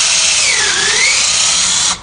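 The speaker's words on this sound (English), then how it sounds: "I'm just going to start straight and then tilt my drill like this" A power drill bores into wood, started straight and then tilted to drill at an angle. The whine is loud and close, and its pitch dips and rises as the bit bites, then it stops abruptly near the end.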